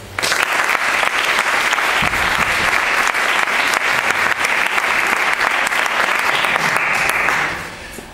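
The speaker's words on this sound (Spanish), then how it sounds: "Pues un aplauso." Audience at a Partido Popular candidate list presentation in Béjar, Spain, applauding a candidate with dense, sustained clapping at full volume that tapers off at the end.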